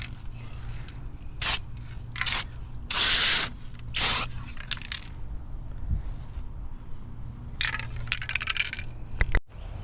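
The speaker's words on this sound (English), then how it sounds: "what y'all think about that little turbo spray bomb on the old C10 bed back here?" Turbo spray-paint can spraying the bed of an old Chevrolet C10 truck at home: several short hissing bursts of varying length, close and fairly loud, separated by brief pauses and a few small clicks and rattles.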